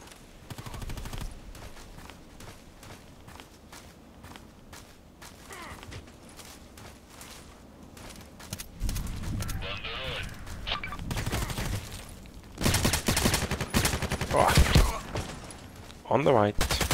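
Machine gun fire in the Contract Wars video game: rapid bursts of automatic shots that grow louder and denser toward the end, with someone talking over the gunfire.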